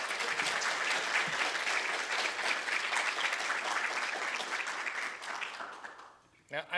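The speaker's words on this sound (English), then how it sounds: "let's give another round of applause to all of our winners" A crowd applauds steadily, dense clapping sustained throughout before tapering off near the end.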